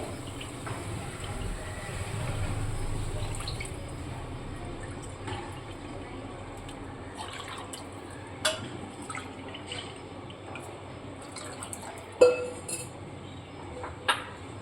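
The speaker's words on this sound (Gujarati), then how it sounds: "આપણે આમાં ત્રણ વાટકા પાણી નાખવાનું છે" Three bowls of water pour into a pan of semolina for upma for a few seconds, then the kitchen goes quiet except for a few scattered clinks and taps of utensils.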